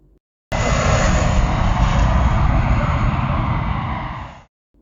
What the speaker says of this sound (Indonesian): Pesawat pun mendarat.